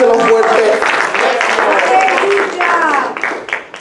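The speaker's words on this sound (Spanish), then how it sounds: "Si le van a dar ese aplauso a Jesucristo, déselo fuerte." A church congregation applauding loudly, a thick burst of clapping with voices rising over it before the sound thins out toward the end.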